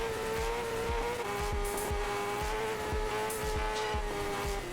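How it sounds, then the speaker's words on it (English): A motorcycle in the Rims Racing video game revs continuously, its engine droning loudly with a regular pulsing throb and sharp exhaust pops, rising and falling without any talk. "Okay, so my exhaust is popping, but there's nothing wrong with it."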